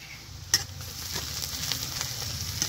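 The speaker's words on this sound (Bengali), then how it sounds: "ছোট বড় 2টো পেঁয়াজ কুচিয়ে নিয়েছি, হালকা করে একটু ভেজে নিব।" Chopped onion, ginger and garlic fry in a pan with a soft, steady sizzle, close by, broken by a few light spatula scrapes and taps.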